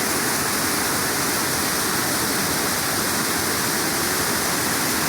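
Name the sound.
gushing running water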